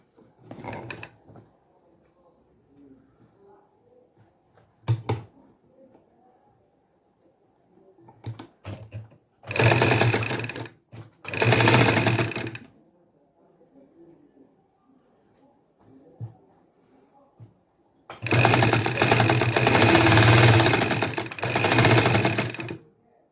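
A sewing machine stitches the third side of a cut fabric bag in loud, dense bursts of rapid mechanical chatter, several seconds each, separated by quiet handling and shorter stops and starts.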